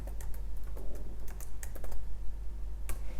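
Keys clacking on a computer keyboard while text is typed into a font-changing command, a steady run of close, crisp taps with a few louder strokes, no talking.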